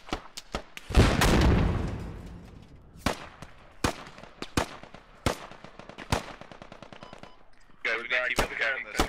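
Sharp, loud gunshots crack out in the Squad military video game, single shots and short bursts spaced irregularly, with one heavy booming blast early on and brief talk near the end.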